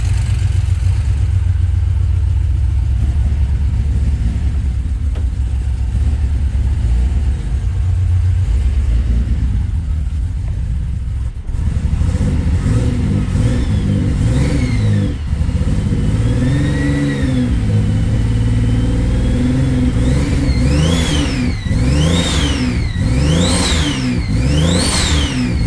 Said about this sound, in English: now the turbo sound is better now